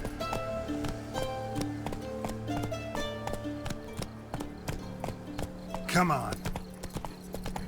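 In a video game, the horse Roach gallops with a quick, steady clip-clop of hooves over a tonal musical backdrop, with a brief whinny-like cry partway through; a voice speaks briefly.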